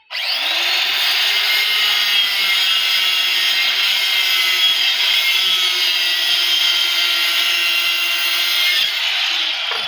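A tile cutting machine slices through a tile stood upright at ninety degrees, a loud, continuous high-pitched grinding whine that starts abruptly and holds steady for nearly ten seconds before cutting off.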